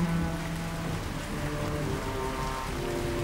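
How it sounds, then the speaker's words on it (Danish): Steady rain falls continuously, a dense even patter of drops on surfaces with no pauses, no voices and a faint low rumble beneath. "Det havde regnet i flere dage."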